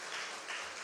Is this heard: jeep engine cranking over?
no